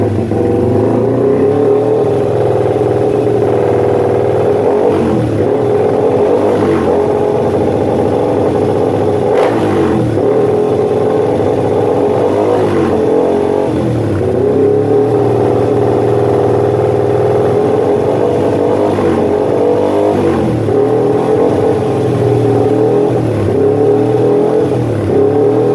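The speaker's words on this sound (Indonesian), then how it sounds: "sekarang kita tinggal tes saja suara motornya berubahnya jadi kayak gimana" A fuel-injected roadrace motorcycle engine, freshly tuned, revs loudly and close up, rising and falling in repeated throttle blips over a steady idle for the whole stretch, with no talking.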